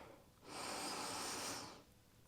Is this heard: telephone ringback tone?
no